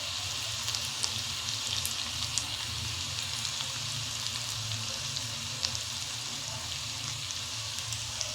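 Spices, turmeric, asafoetida and ginger-garlic paste fry in hot oil for sev bhaji, making a continuous bright sizzle with faint crackling pops scattered through it, with no one speaking.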